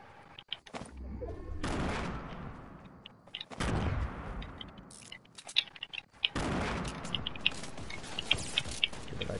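Fortnite gunfire as a distant firefight: scattered shots and rattling bursts under a steady wash of game noise, fairly faint, with a few sharper pops toward the end.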